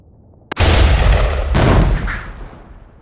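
Two sharp, loud gunfire blasts ring out in a stop-motion tabletop battle, about a second apart, each followed by a long booming tail that dies away.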